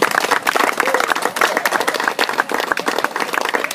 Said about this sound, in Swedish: En applåd till dem.